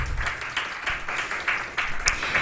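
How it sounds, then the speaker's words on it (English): Students and youths at the Creative Youth Ideas Summit in Belize clap for themselves, a moderately loud patter of hands with distinct individual claps standing out, rising in small bursts over a low background rumble. "Give yourselves a big round of applause."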